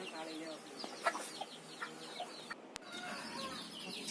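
Farm chickens feeding on sprouted millet cluck in short, scattered calls with faint pecking taps, fairly close, with a sharp knock partway through and voices nearby.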